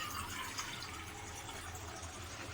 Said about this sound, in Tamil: ஒரு கப்பு தண்ணி ஊற்றிக்கோங்க.